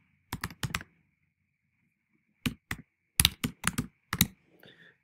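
Quiet computer keyboard keys clicking an ID number in short bursts: a few quick taps, a pause, then a denser run of keystrokes, close and crisp.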